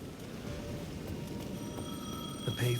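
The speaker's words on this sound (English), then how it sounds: "The payphone at the edge of the plaza was ringing again." A payphone at the edge of a plaza rings in Alan Wake II, a faint, thin electronic ringing tone sustained beneath a quiet ambient bed.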